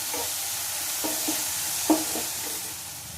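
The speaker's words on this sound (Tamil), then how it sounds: "வெங்காயம், தக்காளி, பச்சை மிளகாய் இதை வந்து இதில் ஜஸ்ட் ஒரு 2 to 3 minutes வதக்கினா போதும்" Onion, tomato and green chili sautéing in a pan, a steady soft sizzle under a few scraping stirs of the spoon, with no voices.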